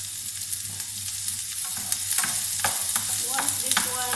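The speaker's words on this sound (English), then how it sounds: "we will put onion. Okay, we will put them side to side until they will become translucent." Onions fry and sizzle in a hot pan alongside ginger, with steady crackling and occasional stirring scrapes, close and clear with no voices.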